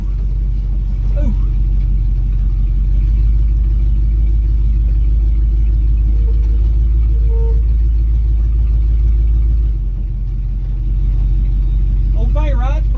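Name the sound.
1971 Dodge D100 truck engine while driving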